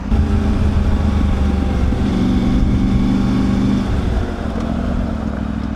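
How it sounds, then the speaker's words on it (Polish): A Triumph Tiger 900 Rally Pro motorcycle idles in traffic, a steady, close low engine rumble with light mechanical clatter and surrounding road noise. "Nawet motocykle w korku stoją"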